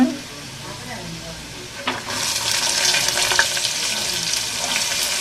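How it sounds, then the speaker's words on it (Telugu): Chana dal tipped into hot tempering oil, setting off a bright, steady frying sizzle that swells at about two seconds and keeps crackling to the end, close and fairly loud. "ఇప్పుడైతే శనగపప్పు అయితే వేసేద్దాం."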